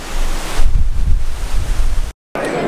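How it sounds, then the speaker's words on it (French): Gusty wind buffets a Rode microphone fitted with a small windscreen outdoors in Las Vegas, a loud low rumble with surf-like roar that drops out briefly before resuming. "aujourd'hui il y a du vent à Vegas"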